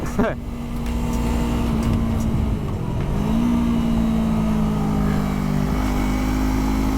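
A sport bike at wide-open throttle on a race track, its engine droning loudly and steadily with a rising pitch shift midway under strong wind rush.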